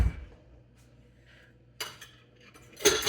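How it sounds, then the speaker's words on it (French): A spoon stirs pudding mix and milk in a bowl, giving a few light clinks and scrapes against the dish, with two short, sharper bursts over a quiet background. "Je vais brasser avec une cuillère."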